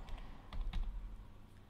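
Fingers tap out a web address on a computer keyboard, a short run of soft, close keystrokes in an uneven rhythm over a low background hum, with no voices.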